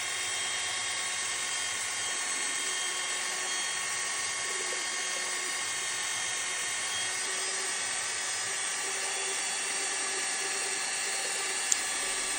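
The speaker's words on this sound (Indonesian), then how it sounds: "Saat saya mencoba menaikkan speed dari mixer ini, embernya sampai jalan lagi ya." An electric mixer churns ice pack gel in a bucket, giving a steady, loud motor whine with a bright high-pitched edge that runs unbroken throughout and holds one constant pitch.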